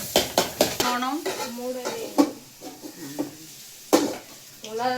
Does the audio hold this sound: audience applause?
no